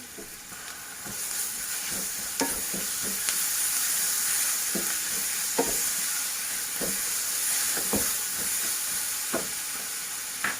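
Onions frying in a pan with ginger garlic paste, a continuous hissing sizzle with repeated sharp scrapes and taps of a spoon stirring at irregular intervals, no speech.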